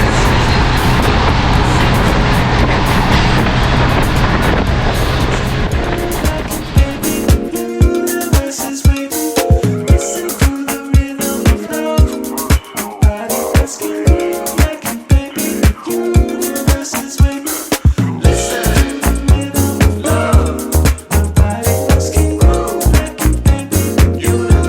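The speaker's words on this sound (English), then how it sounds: "Enjoy the wind noise." Roaring wind rushing through open Safari windows of a bus driving toward Big Bend, loud and steady throughout, with road and engine rumble underneath and a rapid rhythmic thumping and rattling building partway in.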